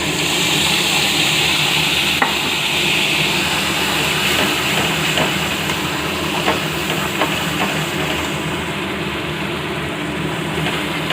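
Whole spices sizzle and hiss in hot oil in a pan while the base for Bengali chicken kasha is started, a steady close-up frying crackle with a few sharper pops and no talking.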